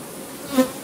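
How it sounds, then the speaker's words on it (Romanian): A brief burst of honeybee colony buzzing, a close hum that swells for a moment then settles back into a softer background drone, as hive frames are inspected. "o albină care eclozează acum"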